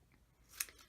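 A single crisp snip of scissors cutting scrapbook paper, close and quiet, in an otherwise still room.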